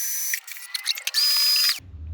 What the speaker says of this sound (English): we'll get back up here and keep on drilling